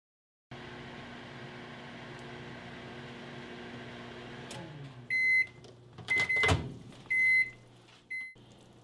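Microwave oven humming steadily as it heats cheese for fathead dough, a constant low drone with fan hiss, followed by several loud sharp beeps and a door clunk near the end.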